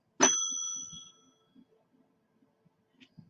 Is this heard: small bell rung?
yes